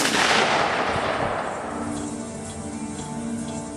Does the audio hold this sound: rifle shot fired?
yes